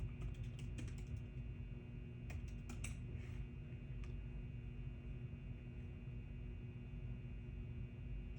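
Soft, scattered keystrokes on a computer keyboard come in small bursts with long pauses, faint and close over a low steady hum in a quiet room.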